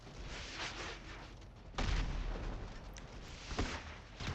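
A powerful gun in GTA V fires from the player's side, heavy booming shots landing in a couple of distinct blasts over a continuous rumbling game soundscape, fairly loud and close.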